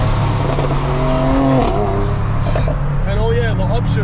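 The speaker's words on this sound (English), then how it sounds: "The upshift sounds so good." A Mercedes C63 AMG's engine and exhaust rise through the revs and snap into an upshift, with a brief drop in pitch before climbing again, loud and steady throughout while someone talks over it.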